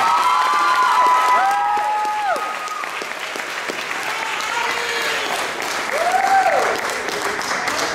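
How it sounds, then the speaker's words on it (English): A kindergarten graduation audience applauds steadily with scattered cheers and whistles, loud and continuous throughout, with a few shrill whoops rising over the clapping. "Let's give them one big round of applause."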